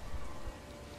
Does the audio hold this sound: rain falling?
yes